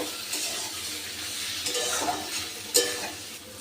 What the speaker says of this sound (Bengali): আবার একটু নেড়ে দেবো, নাহলে নিচ থেকে লেগে যাবে।